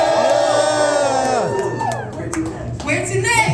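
A concert crowd claps, cheers and whoops loudly and continuously for a few seconds, a dense wash of mixed voices and applause close around the listener.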